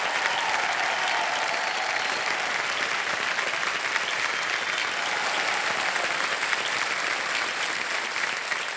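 A studio audience on a quiz game show claps in sustained, dense applause that stays loud and even from start to finish, with no talk over it.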